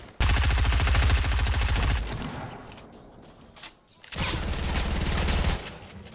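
Rapid automatic gunfire in Fortnite: Battle Royale, two loud sustained bursts of fast shots separated by a brief lull with scattered quieter game sounds, no voices.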